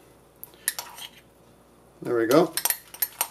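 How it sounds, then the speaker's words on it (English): Natto gets stirred in a bowl, a utensil clinking and scraping against the dish in short bursts, with a sticky churning sweep in the middle and a brief spoken phrase nearby. "So it's lathery, but it's getting harder and harder to stir"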